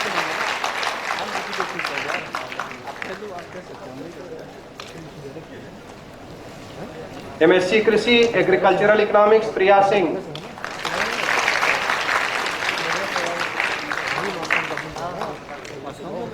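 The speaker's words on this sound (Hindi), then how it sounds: "कृपया तालियों से छात्रों का उत्साहवर्धन करते रहे।" Audience applause at the 24th convocation of Veer Bahadur Singh Purvanchal University, Jaunpur, a steady wash of clapping that fades under an announcer reading out a graduate's name, then swells again.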